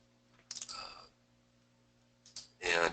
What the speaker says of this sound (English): So if we click on our manage rules